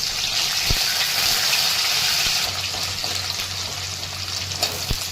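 Curry leaves and chopped onion, with a bay leaf, sizzle steadily in hot oil for a potato sabzi, a loud, continuous broad hiss with a few faint clicks and pops throughout.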